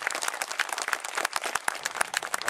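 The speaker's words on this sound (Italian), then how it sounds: "Un applauso al coraggio della famiglia Fusco" Applause at the inauguration of a company's new headquarters for the Fusco family, a crowd clapping with distinct sharp individual claps standing out in an uneven, moderately loud patter.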